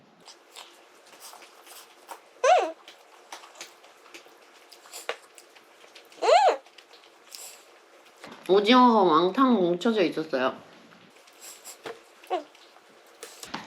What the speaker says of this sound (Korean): 옆에서 들리는 딱딱 소리는 강아지들이